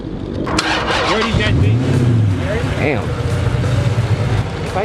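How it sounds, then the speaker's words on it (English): A car fitted with a Flowmaster cat-back exhaust starts up and rumbles loudly and close by. Its low engine drone swells and settles across the whole stretch while voices talk over it. "Cat back, Flowmaster exhaust all the way back."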